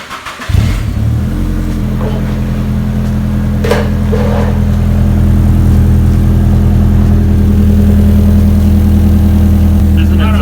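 A Nissan Silvia engine idling with an exhaust leak, loud and close, a steady droning rumble with a puffing, ticking edge that settles in after a brief start-up surge and holds throughout.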